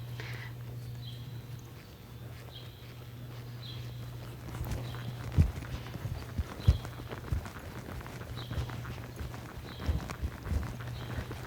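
A horse running a barrel racing pattern, its hoofbeats coming in rapid uneven clusters over a steady low hum and background noise, moderately distant and fairly faint.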